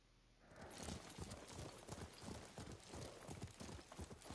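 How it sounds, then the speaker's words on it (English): Steady clip-clop of horse hooves at a trotting rhythm in the video game Ghost of Tsushima, close and fairly loud, starting after a brief quiet moment with no talking. "What a good horse."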